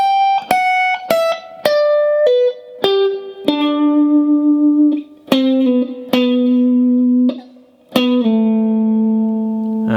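Electric guitar plays the first solo of a song, a run of sustained picked notes with slides down the neck and wavering vibrato, bright and distorted with reverb, loud and alone.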